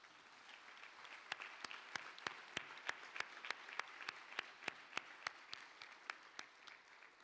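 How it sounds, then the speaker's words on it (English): Sparse, steady clapping at a formal closing session of an international governing council, heard faintly and at a distance, with evenly spaced individual claps over a soft background. "Let us show appreciation to all of them with a well deserved round of applause."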